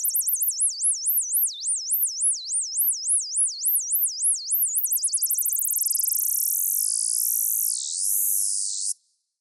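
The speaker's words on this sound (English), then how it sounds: "the faster it is, the more of a buzz sound, and overall it gives a really complex sort of bird sound" A synthesized buzzy bird call warbles from a synthesizer, a high sine tone wobbling in slow swoops before speeding into a fast, rasping trill that swells, then cuts off abruptly, alone with no other sound.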